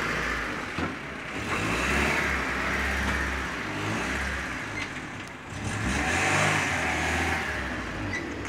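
A Honda Civic 1.4 engine with a worn-out motor, revved in two long surges with a dip between them, loud and close, no talk over it.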